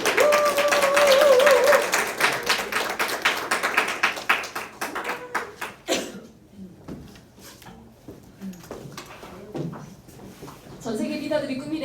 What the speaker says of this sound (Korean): 문현아 사장님을 큰 박수로 모시겠습니다